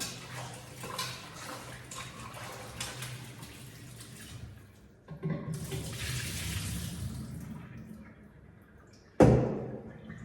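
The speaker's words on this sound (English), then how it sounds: "So now we're gonna continue rinsing our meat now." Kitchen tap water running into a sink while meat is rinsed, a steady splashing rush that grows fuller and brighter midway, then a sudden louder gush near the end.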